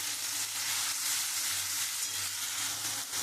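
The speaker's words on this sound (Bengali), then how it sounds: "আমি এখন পেঁয়াজ রসুন পেস্টটা দিয়ে দেবো, দিয়ে আমি খুব ভালো করে কষিয়ে নেব।" Onion and garlic paste frying in a pan for a prawn malai curry, a loud, dense, unbroken sizzle close by with faint stirring underneath.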